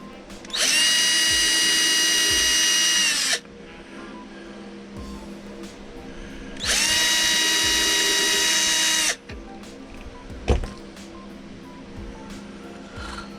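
Two loud bursts of a power drill drilling a walnut post, several seconds each, separated by quieter mechanical handling noise and a sharp knock near the end.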